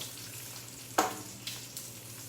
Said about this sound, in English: I'm going to flip our bacon here.